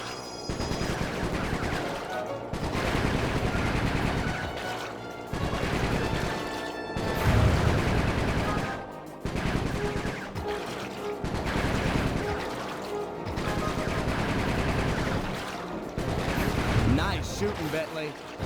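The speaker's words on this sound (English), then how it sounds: "My gun overheated. Guess I should use short burst." Gunfire in short bursts from a weapon in Sly 3, loud and repeated in dense clusters with brief gaps, under a busy game soundtrack and occasional voices.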